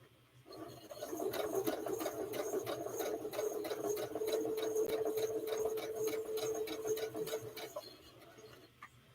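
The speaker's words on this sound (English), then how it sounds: "You sure hear that sewing machine when it kicks in" A sewing machine runs steadily for several seconds with a rapid mechanical clatter and a constant motor hum, close by.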